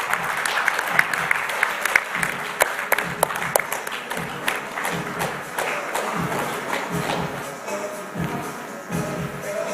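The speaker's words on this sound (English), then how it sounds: "Please have a round of applause" An audience at a paper-industry AGM and seminar breaks into sustained applause, with sharp individual claps early on and a steady wash of clapping and faint voices throughout.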